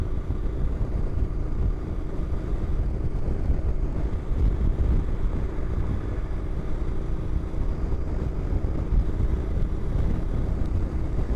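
A Honda NC700X motorcycle rides at steady speed into a north headwind, with constant engine drone buried under heavy, continuous wind buffeting against the microphone.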